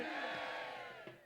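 At a wrestling ground, a crowd of many voices roars a Bajrang Bali victory cry together in one sustained shout that fades out, followed by a brief second burst.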